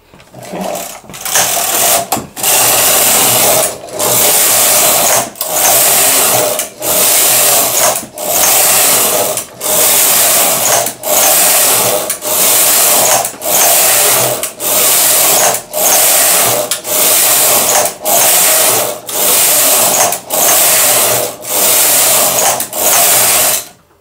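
A Silver Reed SK280 knitting machine runs row after row, each carriage pass a loud, close mechanical whir lasting about a second, separated by brief regular pauses across the whole stretch, no voices.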